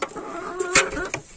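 Hens and chicks in a farmyard coop make a short burst of soft clucking and chirps close by, with a sharp peep in the middle and no talking.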